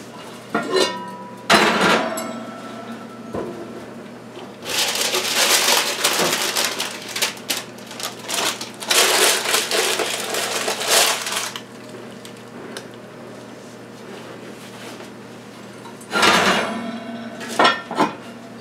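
A sourdough loaf is lowered into a Dutch oven amid bursts of clanking pot and lid noise, metallic clinks and scraping in several clusters with quieter handling between them.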